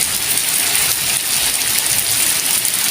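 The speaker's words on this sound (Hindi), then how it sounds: "तो आज तो बारिश बहुत ज़्यादा तेज़ हो गई है" Heavy rain pours down on a village of mud houses during a flood, a loud dense hiss of downpour heard close and constant with no voices.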